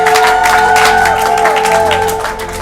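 Audience applause and cheering, a steady loud wash of clapping with crowd voices, holding evenly then easing slightly near the end.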